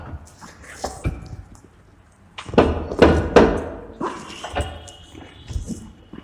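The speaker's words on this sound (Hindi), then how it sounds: "बड़े हथौड़े से ठोकर मार देंगे ताकि ये अच्छी तरह से फिट हो जाए" Hammer blows driving a bearing into a Bosch angle grinder housing: a few sharp metallic knocks clustered close together mid-way, with fainter taps and handling sounds around them, fairly close.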